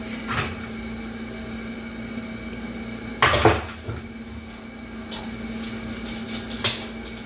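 A metal pot is pulled out in a home kitchen while cooking noodles for lasagna, giving a sharp clatter of cookware midway through, with softer clinks before and after against a steady appliance hum.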